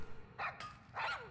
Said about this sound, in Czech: ten Korgi hrozně štěká